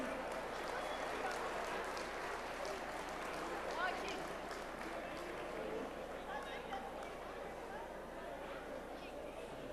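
Audience at a live traditional music set applauds the musicians, a steady broad wash of clapping with crowd murmur holding for several seconds at moderate distance.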